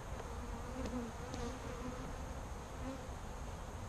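Saskatraz honey bees buzz inside an open hive, a dense steady drone of many wings close to the microphone with no talking.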